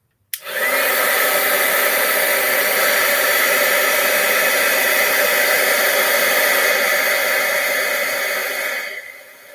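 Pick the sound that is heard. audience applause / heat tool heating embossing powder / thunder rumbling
heat tool heating embossing powder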